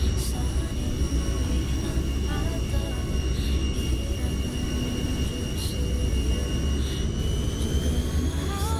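NAMC YS-11 turboprop airliner taxiing in Microsoft Flight Simulator, a steady loud engine drone with a constant whine, unbroken throughout with a faint voice underneath.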